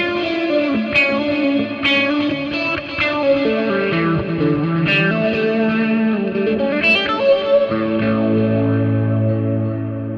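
Electric guitar played through an Axe FX rig with a distortion pedal, wah, reverb and delay, heard alone as a loud, sustained run of shifting notes with echoing, swept tone and a heavier low chord near the end.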